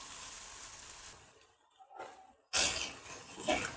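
Diced onion and potato fry in oil in a pan for Mirchi Batata Thecha, a soft crackling sizzle that fades, pauses briefly, then returns louder and more intense.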